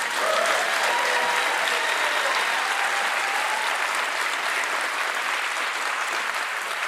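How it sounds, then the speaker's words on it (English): A studio audience breaks into sustained, dense applause that holds at an even level for several seconds without pause. "why are they applauding?"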